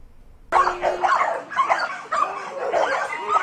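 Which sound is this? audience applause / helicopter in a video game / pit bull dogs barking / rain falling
pit bull dogs barking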